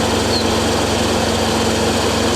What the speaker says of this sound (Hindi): इस गाड़ी के इंजन की आवाज़ पता ही लग रहा कि ये स्टार्ट है या नहीं है।